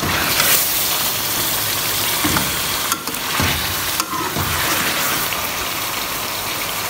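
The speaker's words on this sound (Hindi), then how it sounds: "तो स्लो आंच पे मैं जो है ना भून रही हूँ" Chicken biryani being stir-fried over a slow flame, a steady close sizzle with scraping stir strokes at intervals and no talking.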